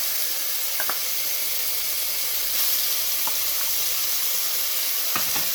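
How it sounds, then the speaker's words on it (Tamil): Loud, continuous steam hiss rises from a pot of village-style rabbit gravy cooking, with a few faint clinks and stirring taps scattered through the steady rush. "ஆவியும் நல்லா வருது. நல்லா வேகட்டும்."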